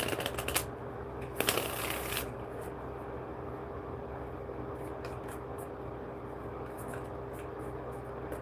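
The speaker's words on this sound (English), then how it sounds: "Shuffle these up." Tarot cards are shuffled in quick riffling bursts near the start, followed by softer intermittent card flicks and handling over a steady background hum, close and moderately loud.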